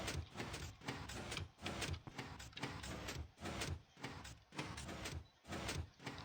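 Minecraft elevator in motion, a steady mechanical rumble and whir that keeps pulsing in a regular rhythm, loud and continuous with no talking.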